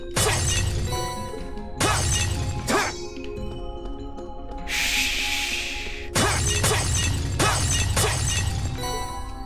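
Objects shatter with repeated sharp breaking crashes in the video game Trails of Cold Steel, several spaced impacts over game music.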